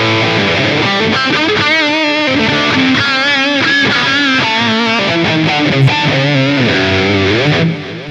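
Electric guitar through the new distortion on a Line 6 HX Stomp Helix, loud and saturated, playing a continuous run of bent and vibrato lead notes with no gaps, fading slightly at the end.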